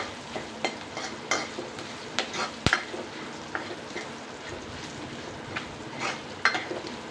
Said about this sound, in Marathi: ते मी या तेलात टाकते थोडंसं आपण याला परतून घेऊया